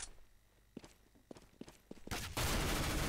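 P90 gunfire in Counter-Strike: Global Offensive, starting with scattered footsteps and single sharp reports, then breaking into a loud, sustained burst of rapid automatic fire at the end.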